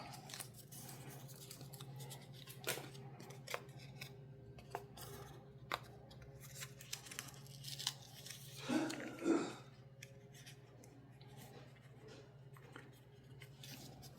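Scissors snip through folded card paper during handmade card-making, a short cluster of close crisp cuts near the end against a quiet room hum.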